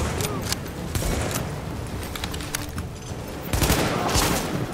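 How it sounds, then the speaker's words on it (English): An ACR rifle in The Division fires in rapid, loud bursts of closely spaced shots, with a heavier volley near the end over busy game noise and faint voices. "this ACR's got a high fire rate"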